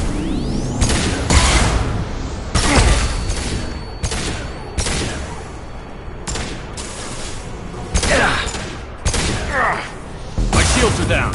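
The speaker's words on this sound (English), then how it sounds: "Watch out, flashbangs!" Repeated loud bursts and booms from flashbang grenades in a Mass Effect firefight, about a dozen sharp broadband blasts in uneven succession over continuous game noise, with a voice talking.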